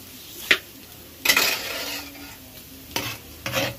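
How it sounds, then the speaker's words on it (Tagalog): Garlic and onion browning in a pan for a birthday spaghetti, with a few sharp stirs and scrapes of a utensil against the pan over a soft sizzle, bursts spaced a second or so apart. "pina-brown muna konti yung bawang at saka sibuyas"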